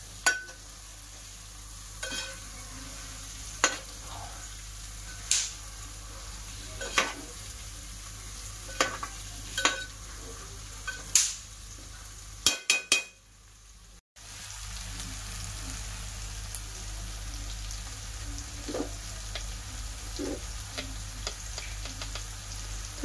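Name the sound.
sautéing boiled fried eggs in biryani gravy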